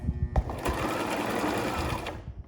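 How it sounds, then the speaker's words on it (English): Sewing machine running a stitch across a vinyl rooftop tent cover: a short, fast whirring burst of needle strokes, close and loud, starting abruptly and stopping after about two seconds. "place it in sideways, drop our foot, and then run a stitch across this thing"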